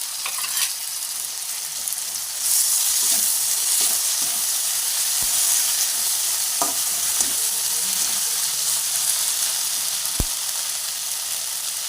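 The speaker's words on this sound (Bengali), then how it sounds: "তেল ছাড়তে শুরু করেছে। এখন দিয়ে দেবো একটা টমেটো লম্বা স্লাইস করে কেটে রেখেছিলাম, সেটাকে দিয়ে দেবো।" Long tomato slices frying in hot oil for a fish curry, a loud continuous sizzle with scattered pops and clicks of stirring, no talking over it.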